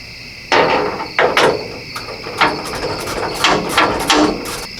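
Ratchet wrench tightening a bolt on the front end of an old Ford F250 pickup, several quick bursts of sharp metallic clicking close by, separated by short pauses.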